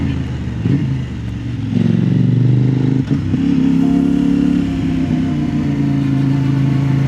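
A Kove 800X Pro motorcycle on road tyres, ridden through bends in the Luberon: a steady, loud engine drone that swells as the bike accelerates out of the corner, with a brief dip near the middle.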